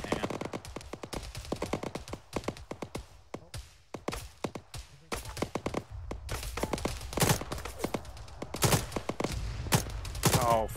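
Rapid gunfire and heavy explosive impacts from mortar fire in the military shooter ArmA 3, with dense bursts of sharp cracks and booms through the clip.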